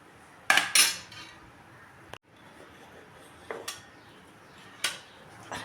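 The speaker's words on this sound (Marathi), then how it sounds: "आता हलवत राहायचं आपण थोडं थोडं थोडं थोडं" A spoon clanks and scrapes against a pan while potato and sabudana papad mixture is stirred, a few sharp metallic knocks spaced out over quiet background, no talking.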